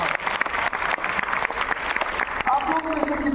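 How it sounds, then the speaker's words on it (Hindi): Hearty applause from a large seated crowd at a DXN business meeting in Patna, quick dense clapping with a few louder claps, continuing while a voice carries faintly over it. "जोरदार तालियां हमारे सीनियर डायमंड्स."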